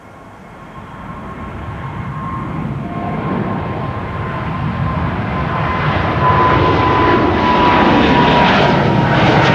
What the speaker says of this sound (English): Delta is eager to climb